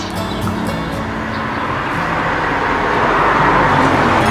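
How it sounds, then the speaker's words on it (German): A car passes outdoors on a warm day, a steady broadband road rumble that swells toward the end as the vehicle draws nearer, with no talk over it. "Auto ist gerade durchgefahren"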